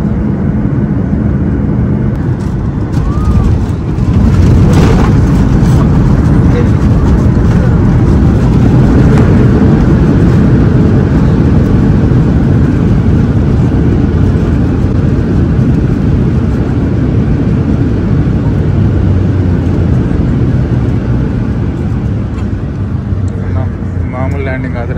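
A passenger airplane arriving in Malta, with a loud broadband engine and airframe roar filling the whole stretch. A sharp jolt comes early, suggesting a rough touchdown, then the rumble continues steadily as the plane rolls on.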